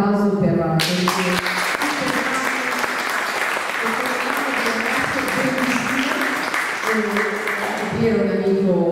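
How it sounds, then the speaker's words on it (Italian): Audience applause at an Italian theatre evening, a dense wash of clapping that swells in after a short spoken intro, holds steady for several seconds and tapers near the end, with voices heard at the start and close. "vorrei un grande applauso per la presenza."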